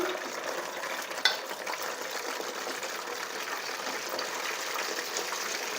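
Chicken pakodi pieces dropped into hot oil on high heat, a continuous busy sizzle with a single sharper clink near the start, steady and close.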